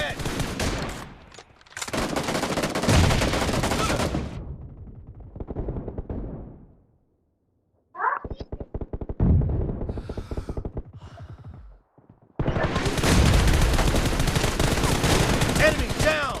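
Gunfire in the mobile game BGMI after its anniversary update: loud, rapid automatic bursts in a team deathmatch, several long volleys separated by short lulls and scattered single shots.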